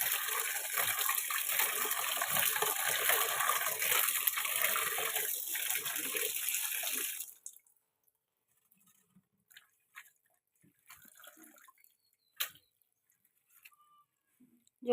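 Running water gushes steadily over cut ridge gourd, pointed gourd, potato and jackfruit seeds being washed, then stops abruptly, leaving scattered faint clinks and drips.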